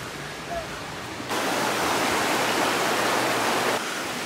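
Steady broadband rush of a river flowing beside Gradbach Mill on a Peak District walk, loud and continuous, swelling for a few seconds in the middle before easing back.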